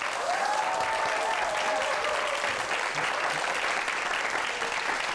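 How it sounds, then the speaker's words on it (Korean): A Korean studio audience on a YTN DMB startup talk show breaks into sustained applause welcoming a restaurant CEO guest, an even, continuous roar of clapping with a faint voice briefly audible beneath it. "큰 박수로 환영해 주세요."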